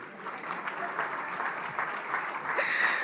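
An audience at the KRA 30th anniversary celebration applauds steadily, many hands clapping together at moderate volume, swelling slightly toward the end.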